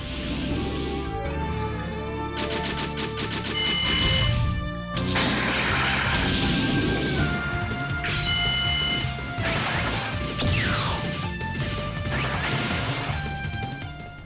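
Neo Geo CD game audio played in mono from a Neo SD Pro cartridge: dense arcade music with crashing impacts, whacks and synth tones layered continuously over fourteen seconds, no talk.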